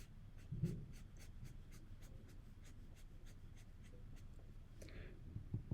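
A pen or pencil writing a label on a park design drawing, a quick regular series of faint scratchy strokes close by, with soft breathing and handling noises and no talk.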